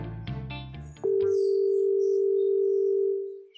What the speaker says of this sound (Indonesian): Coba saya telepon istri dulu ya